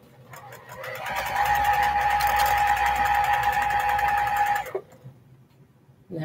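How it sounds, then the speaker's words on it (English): A sewing machine chain-stitching small 2.5-inch quilt blocks runs in a fast, steady whir with a sustained hum for about three seconds, then cuts off and leaves quiet room tone. "I'll sew it back and forward"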